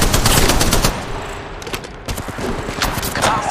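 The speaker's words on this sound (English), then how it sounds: "I am taking fire." Rapid automatic gunfire in the mobile game Apex Legends Mobile, loud and close, bursts of shots rattling continuously with a brief dip midway before firing resumes.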